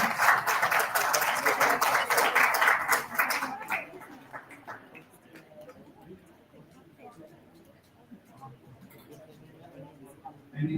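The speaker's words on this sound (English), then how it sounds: "Please have a round of applause for Priyanka." An audience at a physiotherapy conference applauds a prize winner with a burst of clapping that fades after a few seconds, followed by quieter room noise and faint voices.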